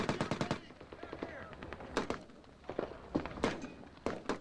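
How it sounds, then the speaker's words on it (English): Machine gun fire during Iraq war news coverage, a rapid burst of sharp reports followed by scattered single shots and thumps at moderate distance, with faint voices between them. "machine gun fire traced across the dusty landscape, suppressing the Iraqi gunmen"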